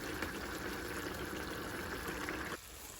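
Water simmering in a pot of rice for Uzbek plov, a faint steady hiss and bubbling that cuts off abruptly near the end, leaving quieter background.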